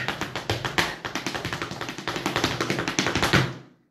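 Rapid, crisp flamenco shoe taps strike the floor in a fast, driving rhythm for a few seconds before abruptly stopping.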